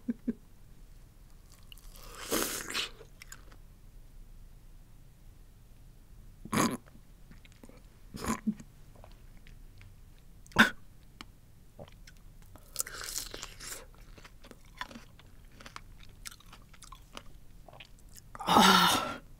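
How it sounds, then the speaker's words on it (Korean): A fresh strawberry dipped in Vegemite is eaten close to the microphone, with intermittent soft crunchy bites and wet chewing separated by quiet pauses. No one speaks. "딸기랑 한번 먹어볼게요"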